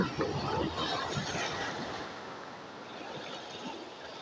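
Sea waves wash against a small fishing boat out on open water: a soft, continuous broadband swash and lapping, fairly quiet and steady, with slightly louder surges early on.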